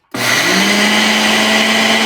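A mixer grinder starts abruptly and roars loud and steady while grinding roasted rice into powder, a constant high motor whine with a faint hum beneath, no talking.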